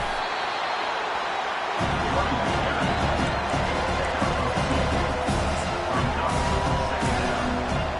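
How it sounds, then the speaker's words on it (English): A large stadium crowd roars and cheers steadily at a football game, a dense wall of noise that swells in after a quieter opening and holds loud throughout. "Listen to the crowd energy here in the early going."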